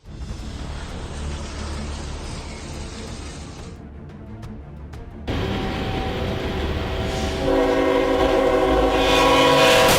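A train approaches a railway crossing with a steady rumble, and its horn blasts loudly and grows louder as it nears, over continuous rolling noise.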